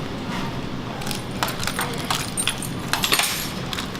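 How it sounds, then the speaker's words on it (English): A set of keys drops and jangles, with several short metallic clinks and rattles close by in a quiet room, no talking. "Oops, dropped my keys."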